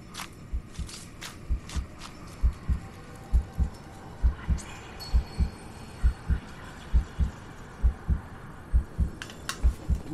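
A heartbeat health sensor in the video game Mortal Shell thumps in steady paired beats, a low, regular lub-dub pulse that continues throughout with no talking.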